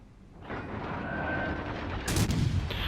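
Naval guns of the cruiser USS Dallas firing in World of Warships Legends, a dense rumbling barrage of gunfire that swells into a louder burst of blasts toward the end, with no talk over it.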